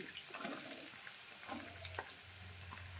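Onions tossed into a pan with garlic and ginger give a steady, quiet sizzle of frying, with faint stirring scrapes over a low hum.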